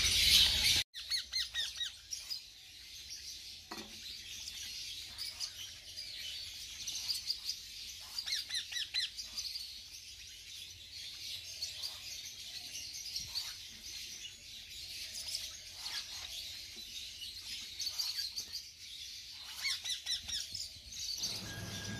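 Baby parrot chicks give repeated bursts of squeaky, chirping begging calls during hand-feeding with formula, close by, in rhythmic clusters with short pauses throughout.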